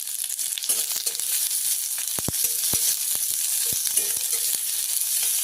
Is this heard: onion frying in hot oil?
yes